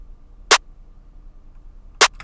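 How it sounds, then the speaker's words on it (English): A trap clap sample programmed in FL Studio, played alone without the snare: two sharp, bright claps about one and a half seconds apart, dry and close over near silence. "so if I just have the clap in without the snare"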